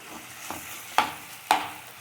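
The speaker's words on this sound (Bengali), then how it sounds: "এবার ভালোভাবে এটা নাড়তে থাকবো।" Freshwater snails frying in oil, stirred in a pan, with soft sizzling and several sharp clinks of a spatula scraping through at a steady pace, close and quiet.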